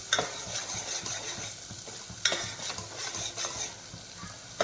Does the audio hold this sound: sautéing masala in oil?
yes